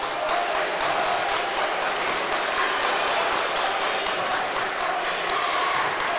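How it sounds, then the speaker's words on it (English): Sustained applause from the crowd at a Wolfe County Wolves versus Hazard Bulldogs high school basketball game, a dense patter of clapping filling the gym with a steady level throughout. "Wilgus gets a nice hand from the crowd"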